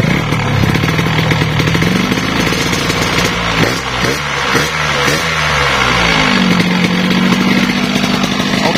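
Yamaha RS 100 two-stroke motorcycle engine, freshly cleaned after a clogged two-stroke oil fix, idling loudly up close with a buzzy, crackling note, then rising and falling through several throttle blips before settling back to a steady idle.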